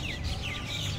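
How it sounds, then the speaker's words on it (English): Birds chirp at Sydney Olympic Park on a stadium event evening, brief high tweets repeating over a dense, loud crowd and background hum. "the birds come here to barrack for their favorite team. As you can hear"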